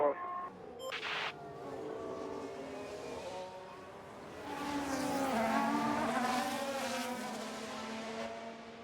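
Race cars in a video game roar past with high revving engines, a steady droning engine tone that swells louder midway, with brief talk at the start.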